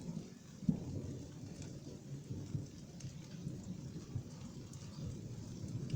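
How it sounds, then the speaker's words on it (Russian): Thunder rumbles low and distant through a thunderstorm while steady rain patters on surfaces nearby, quiet and continuous with no voices. "У нас опять начинает греметь. Похоже, что опять будет дождь с грозой."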